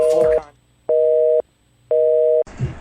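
Telephone busy signal: three evenly spaced tone bursts with short silences between, clear and loud, with a brief voice at the start and end.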